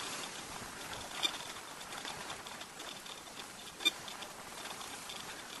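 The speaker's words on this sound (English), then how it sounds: "It's probably been raining for about an hour." Steady, soft patter of rain falling, a continuous hiss with a couple of faint drips or taps standing out.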